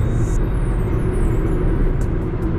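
Inside a 2016 Toyota Etios Liva cruising at 100 km/h, a loud, steady road and engine rumble fills the cabin, with a few brief hissing bursts over the drone.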